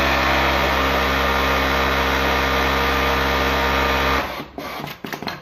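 An industrial coverstitch sewing machine with its knife disabled stitches a channel, a loud steady high-speed motor hum for about four seconds, then cutting off into brief clatters and handling noise.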